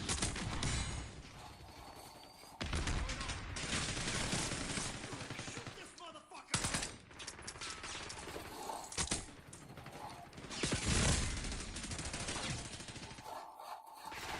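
Video game combat with rapid gunfire: dense bursts of automatic shots and clattering impacts come in several loud waves with short lulls between them.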